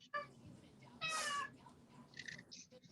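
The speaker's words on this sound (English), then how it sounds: "hear a kitty cat. Yeah, he just came in the back door." A house cat that has just come in through a back door gives a quick meow, then a louder, drawn-out cry, followed by softer mewing sounds under faint room noise.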